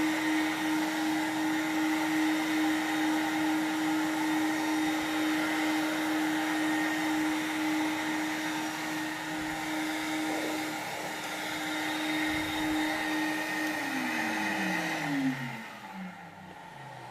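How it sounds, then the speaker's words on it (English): A portable carpet cleaning machine runs a vacuum-only dry pass, its steady loud motor whine and suction roar sustained throughout before the pitch drops as it winds down near the end. "So now I'm going to let off the water in this vacuum-only dry pass now."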